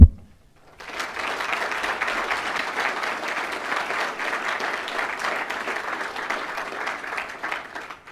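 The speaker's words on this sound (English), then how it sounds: "Big thank you to the cadre. How about another applause?" Applause from the audience at a recruit class graduation ceremony thanking the cadre rises after a brief silence into sustained, even clapping of a large crowd that holds steady to the end.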